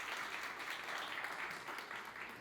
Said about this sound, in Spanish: Den un aplauso a los voluntarios, denle un aplauso.